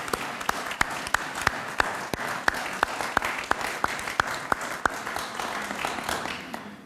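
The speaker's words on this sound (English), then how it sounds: "please join me in applauding them for their effort, for their vision" An audience applauds at the opening ceremony of a Holocaust resource center and archives, a sustained wash of clapping with a few sharp, close individual claps standing out in a steady rhythm.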